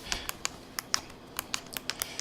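Control buttons on a Samsung Q990C soundbar being pressed, about a dozen crisp plastic clicks in quick, uneven succession, close and clear with no talking.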